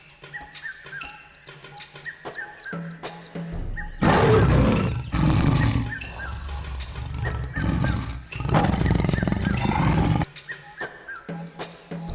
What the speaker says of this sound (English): Can you roar like a tiger?